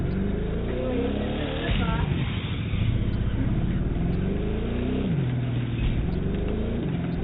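Car engine revving during parking lot autocross in The Crew 2 video game, a continuous loud engine drone that rises and falls with shifting pitch, with talk running over it.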